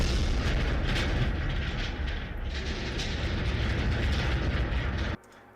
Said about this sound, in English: we gotta pick an explosion sound